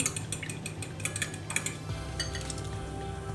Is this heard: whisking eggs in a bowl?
yes